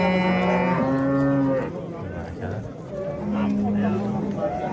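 Long, loud moos from cows in the cattle row of the Olmaliq livestock market, two or three calls in quick succession close by, with voices talking alongside.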